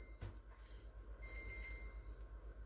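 A kitchen timer going off during cake preparation, a repeated electronic beeping alarm pulsing in a steady rhythm against a low background hum, moderately quiet with no talking.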